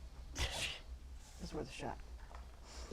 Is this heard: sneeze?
yes